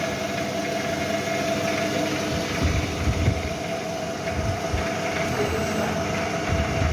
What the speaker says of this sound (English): You can see the spindle has started working.